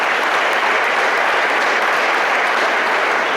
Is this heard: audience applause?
yes